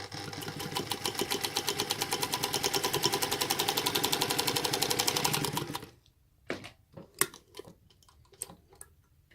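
A sewing machine stitches a scant quarter-inch seam joining half-square triangles in a saw tooth quilt block, a fast even rapid-fire needle rhythm running close and steady for about six seconds, then stopping, followed by a few soft handling clicks.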